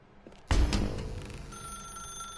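A telephone rings in The Stanley Parable after a soft knock, a loud ring that starts sharply and then settles into a sustained bell tone and fades away, with no voices.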